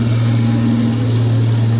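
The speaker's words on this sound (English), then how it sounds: "The tank produces a low rumble, captured in footage as it passes." Low, steady rumble of a Chinese next-generation tank engine passing, holding two strong low droning tones at a constant, loud level throughout with no voices.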